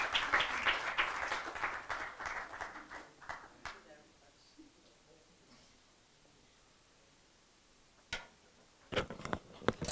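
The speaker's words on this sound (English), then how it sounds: "Let's give our this beautiful young lady a good warm hand of applause" Warm audience applause at an interfaith talk as a speaker comes up, loud for a few seconds then dying out into a quiet room with scattered handling noises and a couple of sharp taps near the end.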